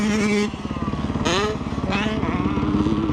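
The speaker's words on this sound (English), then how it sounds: "Wait until this two-stroke goes flying by." Two-stroke dirt bike ripping past on a trail, its engine whining and rising in pitch as it passes close, heard against the steady putter of a nearby four-stroke motorcycle.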